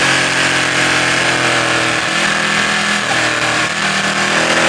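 Ducati 899 Panigale superbike ridden on the road, its engine droning steadily and loudly throughout with broadband wind and road rush, no clear gear changes or pauses.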